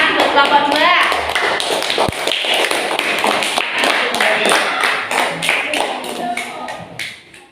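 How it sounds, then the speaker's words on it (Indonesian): Classroom of children clapping for a group of pupils in a lesson, a busy run of sharp taps with excited young voices chattering over it, fading toward the end. "Tepuk tangan buat kelompok 2."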